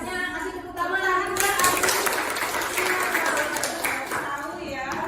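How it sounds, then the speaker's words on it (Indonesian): A classroom group of children applauds at a school activity on positive culture, a loud, sustained burst of clapping that swells after a moment and continues for several seconds, with a few voices mixed in. "Kasih tepuk tangan lagi."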